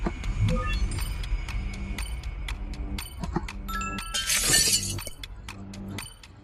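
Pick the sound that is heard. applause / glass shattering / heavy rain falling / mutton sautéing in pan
glass shattering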